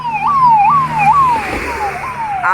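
A wailing ambulance siren rises and falls in repeated sweeps, loud and close, with road traffic rumbling underneath on the NH66 highway in Kerala.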